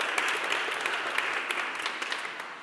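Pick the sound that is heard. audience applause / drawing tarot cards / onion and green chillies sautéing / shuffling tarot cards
audience applause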